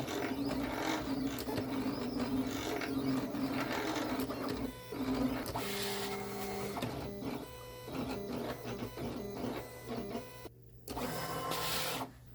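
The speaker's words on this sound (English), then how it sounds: "The machine will start by setting the blade to 0. Then it's going to tap to adjust to the right depth." A Silhouette cutting machine sets its blade depth and then cuts, giving a steady mechanical whirring with repeated motor sweeps, small taps and ratcheting movements that run continuously and close by.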